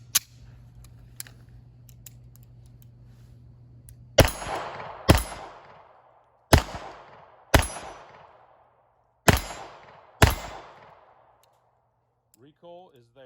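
A Beretta Cheetah pistol assembled from 81 and 85 parts fires six close, sharp .380 shots, spaced about a second apart, with the reports ringing out after each. A brief low hum comes first, and a faint clatter follows at the end.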